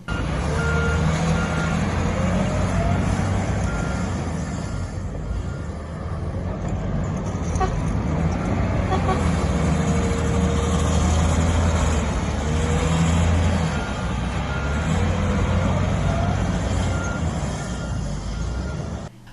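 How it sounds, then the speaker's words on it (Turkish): Snow plows and road-salting trucks work city roads in winter in Kocaeli, a steady loud engine rumble with repeated reversing beeps and occasional horn toots running throughout, no talking. "ekipler yollarda tuzlama ve kar küreme çalışması yaptı"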